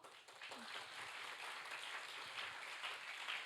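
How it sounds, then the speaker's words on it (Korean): A church youth congregation applauds during a worship service, welcoming new members forward; steady, even clapping from a crowd fills the room throughout, at moderate volume with no clear talk over it. "등반자분들 나오실 때 큰 박수로 환영해 주세요."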